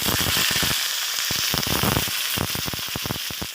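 Fish fries in a pan of hot oil, a loud close crackling sizzle with dense popping bursts spattering throughout, and no one speaking.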